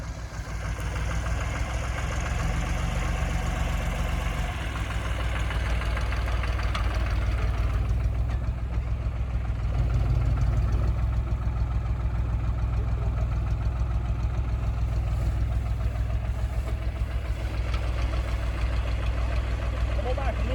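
A tractor engine idles close by on a farm during hay loading, a steady low diesel rumble with a knocking chug that runs unbroken throughout, with brief voices over it.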